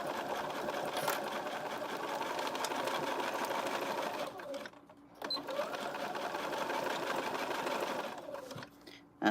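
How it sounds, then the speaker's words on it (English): A sewing machine stitches a zipper pencil case in rapid, continuous runs. The sound stops briefly twice as the fabric is adjusted, then carries on close and clear. "And I keep going for my knee lift and my back stitch on the side, like over on my Sailrite."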